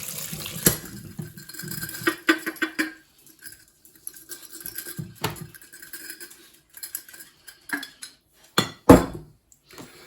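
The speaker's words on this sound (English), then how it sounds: "First stage is simply going to be to put it through a sieve." Sloe gin poured through a sieve in a kitchen: intermittent trickling and splashing of liquid with sharp clinks of glass and metal, close and moderately loud, with no voices.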